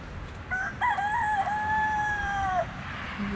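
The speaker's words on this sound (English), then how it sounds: "You beautiful little bird" A rooster crows once in a clear, drawn-out call lasting about two seconds, fairly close, with low background noise and no talking over it.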